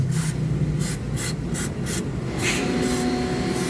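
Short bursts of cleaner spray on Mitsubishi Mirage CVT parts during heavy maintenance, about eight quick hissing puffs in an uneven rhythm, close and fairly loud over a low workshop rumble.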